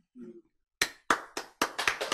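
A short murmur comes first. Then a few sharp, close claps from a lecture audience at a Bible class pick up in a quickening, uneven patter.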